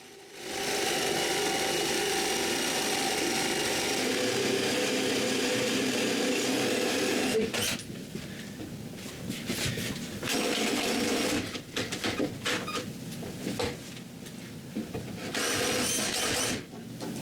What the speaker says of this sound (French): je perce 2 trous pour pouvoir mettre une chaîne à l'avant